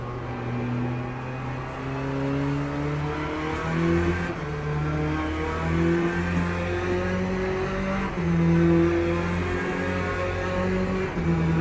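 Hypercar engines drone and whine steadily in a racing video game, with rising and falling tonal notes as cars pass, loud and continuous with no talking.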